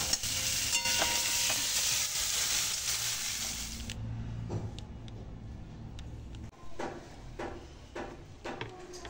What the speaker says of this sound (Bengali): আগে পেঁয়াজটা ভাজা হবে এটা একটু ফ্লেভারের জন্য করছি।